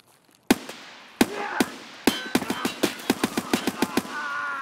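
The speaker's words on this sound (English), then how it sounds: "Someone a little bit trigger happy with a pistol." Rapid pistol gunfire in the shooter game Escape From Tarkov: a dozen or more sharp, loud cracks, a few spaced shots at first, then a quick volley of evenly spaced shots with a fading tail after each.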